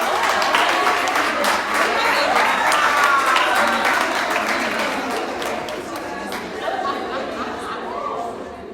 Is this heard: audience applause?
yes